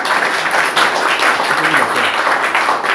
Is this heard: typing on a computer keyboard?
no